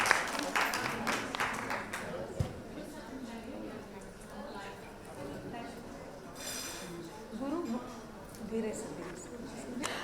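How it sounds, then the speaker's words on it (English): An audience at an awards ceremony breaks into applause, clapping moderately from a distance in scattered waves under and between a voice speaking over the hall. "Can we have a huge round of applause for him"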